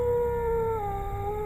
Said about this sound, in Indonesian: Terdengar kembali lolongan anjing kampung, namun kali ini cukup panjang.